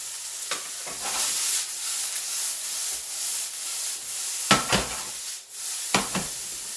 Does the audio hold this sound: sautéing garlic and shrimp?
yes